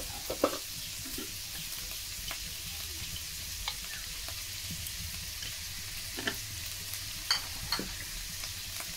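Potatoes sauté with onion, garlic, ginger and salt in a pan, a soft continuous sizzle broken by occasional spoon scrapes and taps, close by and quiet, with no speech.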